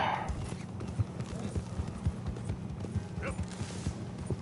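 A horse in the video game Red Dead Redemption 2 clip-clops steadily on the ground, its hoofbeats thudding in an uneven rhythm with a brief whinny, under a continuous background hum.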